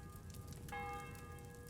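A church bell in Kingdom Come: Deliverance II strikes once, a fairly faint ringing tone that hangs and slowly fades over soft background ambience.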